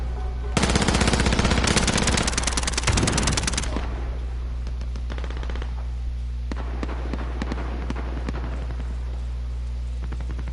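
Rapid automatic gunfire in the Modern Warfare video game on PS4 Pro, a loud dense burst lasting a few seconds, then sparser scattered shots and game noise with no talk.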